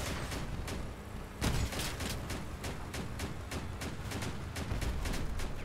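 Rapid repeated gunfire from vehicle weapons in the video game Crossout, a steady volley of sharp shots with a louder blast near the middle, continuous and fairly close with no talk over it.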